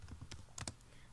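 A RIP network command is typed on a computer keyboard as a quick run of soft, close keystroke clicks, with two firmer taps near the middle, alone in a quiet room.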